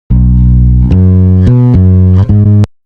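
A sustained electric bass, heavily compressed through a FET compressor, plays a few held notes with sharp plucked attacks, loud and dense, with no voices.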